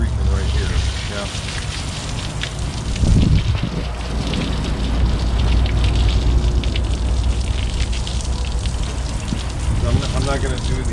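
Steady spray from a water hose rinsing an aluminum Hewescraft boat hull, a continuous hissing wash of water that stays close and fairly loud throughout.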